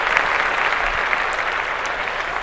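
Steady, dense applause from a small group fills the whole moment, loud and close with no talking over it.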